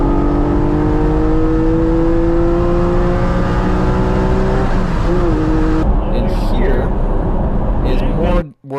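A race car accelerates hard on the MSR Houston track, its engine note rising steadily as it revs loudly up through the gears before cutting off abruptly at the end.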